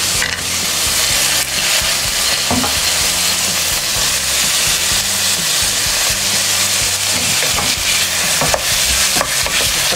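A mix of vegetables goes into a pot of quinoa soup, giving a loud, steady sizzle and stirring rustle that runs without a break, with faint music underneath.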